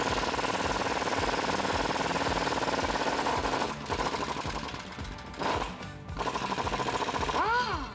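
A pneumatic impact wrench rattles continuously on shock bolts of a Jeep Wrangler JK during a lift kit install, loud and close, with a couple of brief pauses and a final short burst.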